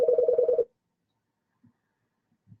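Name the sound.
telephone ringing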